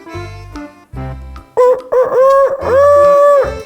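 Clucking gives way to a loud, close rooster crow, a few drawn-out cock-a-doodle-doo calls rising and falling.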